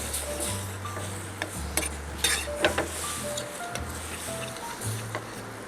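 A spoon stirs chili cereal prawns and oatmeal in a pan, giving soft scraping and clinking taps with a faint sizzle beneath a low steady hum.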